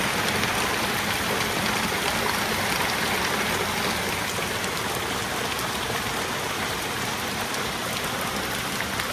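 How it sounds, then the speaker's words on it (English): Heavy rain pours down in a dense, constant hiss, drumming on surfaces nearby without pause. "this is an awful lot of rain"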